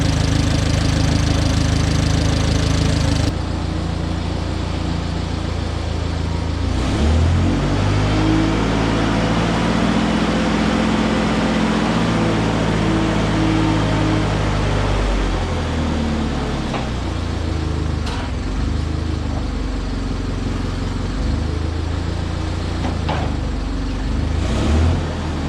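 A shop engine runs after being choked, starting with a rough chugging note that rises into a steadier hum, then fluctuates and settles, loud and close throughout.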